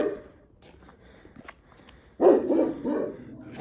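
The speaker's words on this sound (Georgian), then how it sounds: "ხალხო აქ არის ჩემი საყვარელი ძაღლი" A dog barks near the end, a short loud burst after a quiet stretch with faint footsteps and rustling, close by outdoors at night.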